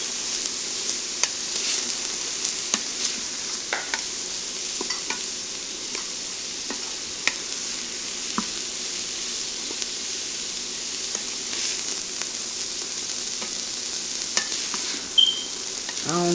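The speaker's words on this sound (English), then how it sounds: "I'm going to let these saute down" Seafood soup ingredients, salted, saute in a pot with a constant soft sizzle, punctuated by occasional stirring clinks and scrapes, steady and close, with no talk.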